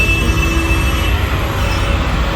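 Loud, steady rumble and hiss on a metro station platform, with a continuous low roar of train and crowd noise and faint high squeals, no clear speech.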